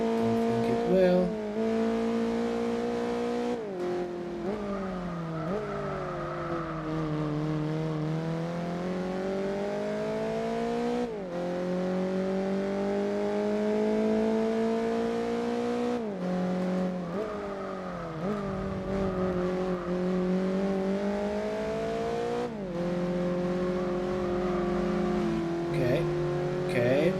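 A Toyota Yaris engine in the racing game Gran Turismo 4 revs and drones steadily, with pitch rising and falling through gear changes and brief tire squeals, while a voice talks over it.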